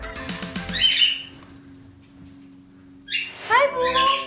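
Pet parrots squawk excitedly indoors before feeding, with shrill, piercing calls in two loud bursts over a steady background hum, and a person talks among them.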